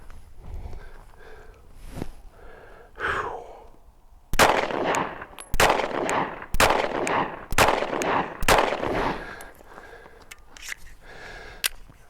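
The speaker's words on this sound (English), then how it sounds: "do 5 more shots just to make sure it's not me" Pistol shots fired on a range while testing a budget red dot sight, about five to seven sharp, loud cracks at irregular intervals, with softer handling noises between them and no talking.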